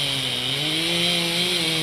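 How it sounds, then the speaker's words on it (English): Chainsaws cutting down an outdoor Christmas tree at a home in Rockford, a loud steady engine whine droning without pause, with no voices. "The sounds of chainsaws Tuesday morning as the city of Rockford harvested the official Stroll on State Christmas tree from the Garino family's yard."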